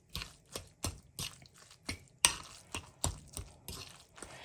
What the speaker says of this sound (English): We want to mix this all together really well.